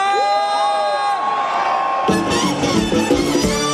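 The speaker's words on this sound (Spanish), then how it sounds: "show ese grito para Diego!" A concert crowd at an outdoor orchestra show in O Eixo, Santiago, Galicia cheers and whoops loudly over sustained music, with a burst of shouting voices swelling partway through.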